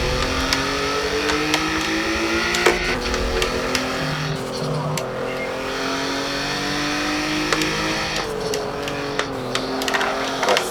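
A car engine revs and shifts through gears continuously, loud and close, with rising and falling pitch and sharp clicks, sounding like a racing game.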